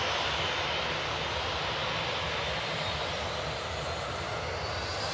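Boeing 737-800 jet engines roar steadily and fairly loudly at an airport, a broad continuous rush with no voices over it.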